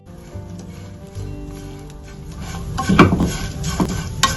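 King fish curry masala is stirred in a pan, a spoon scraping and clinking against the metal in irregular strokes that grow louder and busier toward the end, with a soft sizzle underneath.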